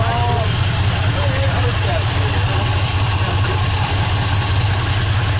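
An old Ford truck engine idles with a steady, loud low rumble that runs throughout. A voice can be heard faintly over the running motor.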